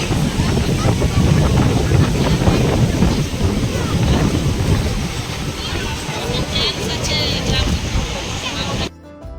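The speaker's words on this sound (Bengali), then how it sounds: "কি মাত্রায় হাওয়া দিয়েছে, আর সেরকম বড় বড় ঢেউ আসছে" Strong sea wind and big waves at Mandarmani beach, a loud, steady roar of wind buffeting the microphone over continuous crashing surf, cutting off abruptly at the very end.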